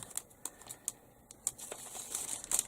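Soft, close crinkling of a thin plastic Sainsbury's supermarket flower bag as a piece is cut off, with a few sharp snips and rustles scattered through a quiet background.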